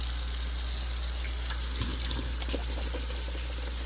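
Jewelry being rinsed under a running tap, a steady broadband rush of water into a sink with a few faint clinks and splashes throughout, no talking.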